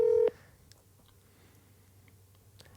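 A single short touch-tone dialing beep sounds loudly at the start of placing a phone call, then cuts to a quiet room hush with a couple of faint clicks.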